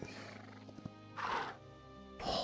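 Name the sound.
horse neighing in video game Hytale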